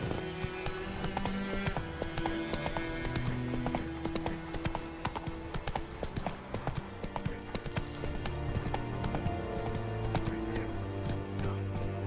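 Roach the horse gallops in Witcher 3, with steady, close clip-clop hoofbeats running the whole time over layered game music and ambience.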